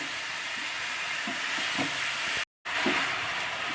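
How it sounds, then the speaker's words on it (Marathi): Tomatoes and cashews roast in a wok, a steady broadband sizzle with a few soft stirring scrapes and a brief dropout of silence midway, no voices. "थोडे आता टॉमॅटो मऊसर होईपर्यंत हे करायचे आपल्याला, थोडे भाजायचे"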